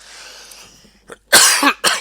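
A man coughs sharply twice at close range, loud bursts after a brief quiet breath, with no talk.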